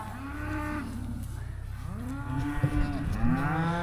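Calves in a cattle herd feeding on hay and grain moo several times, long drawn-out bellows close by, overlapping one another against a low rumbling background.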